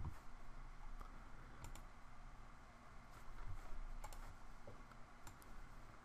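LaTeX commands being typed on a computer keyboard, a quiet, close run of irregular key clicks and taps with no talking.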